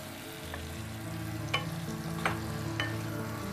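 Tomatoes sizzling in hot oil infused with garlic, a steady frying hiss broken by a few light stirring clicks from a spoon in the pan.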